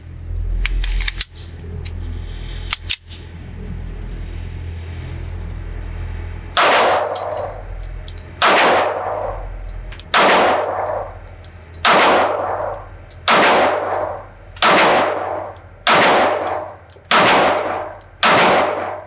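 A Rock Island Armory 1911A1 TCM9R pistol fires 9mm rounds at a range, a few quick early shots followed by a steady series of about nine loud, sharp reports spaced roughly a second and a half apart, each with a ringing decay.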